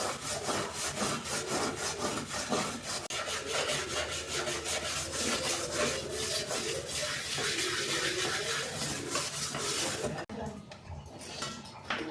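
A blackened cooking pot is scrubbed clean with steady, continuous rasping strokes. The rubbing is close and loud throughout, then eases briefly near the end.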